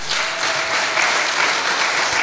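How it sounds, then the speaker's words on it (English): A hall full of delegates at an environmental and public health officers' summit in Kenya gives a round of applause, a dense, even wash of clapping that holds steady for a couple of seconds. "Let's give a round of applause."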